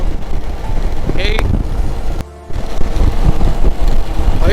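Heavy wind buffets the microphone of a vehicle moving fast along a highway bypass toward Walayar, a steady roaring rush with low rumble, briefly cutting out partway through.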